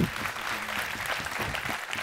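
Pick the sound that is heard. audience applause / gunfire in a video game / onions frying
audience applause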